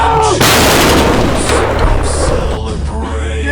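A single loud T-80 tank cannon blast booms out, followed by a long rumbling roar and crackling debris that fills the rest of the moment.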